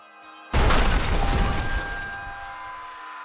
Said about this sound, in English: it sounds like one thing falling and then multiple smaller things falling with it